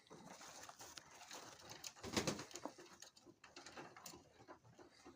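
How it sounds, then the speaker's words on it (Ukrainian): Pigeons cooing nearby while being leg-banded, soft repeated throaty calls over a busy, rustling background with some flutter and scratching. "Це голуби."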